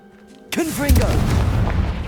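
In the Hogwarts Legacy video game, a Confringo spell bursts as a sudden booming explosion with rolling rumble, and swooping magical tones and game effects sound behind it.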